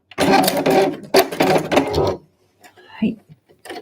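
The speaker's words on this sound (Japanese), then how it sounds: "縫い目を重ねて、で、ここでもう一度返し縫いしておくという感じです" A sewing machine backstitching a seam on a handmade convenience-store eco bag, its fast stitching clatter running in two loud bursts followed by a brief quieter whir near the end.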